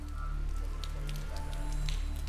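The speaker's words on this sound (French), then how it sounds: "Sous la pluie battante" Pouring rain patters steadily on surfaces in a quiet outdoor town scene with churches, soft and continuous with scattered drips over a low background hum.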